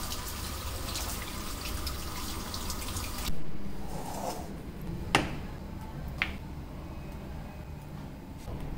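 Goat meat being rinsed under a running tap, a continuous hiss of water for a few seconds, then quieter splashing with a couple of sharp clicks or knocks.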